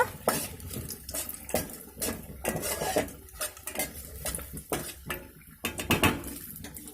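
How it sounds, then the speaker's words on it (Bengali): Cashews and raisins being fried in a pan for basanti pulao, heard mostly as busy metal stirring and clattering of a spoon against the pan over a light, hissy background. "তো কাজু কিশমিশটা দিয়ে আমি একটু ভাজা ভাজা করে নেব।"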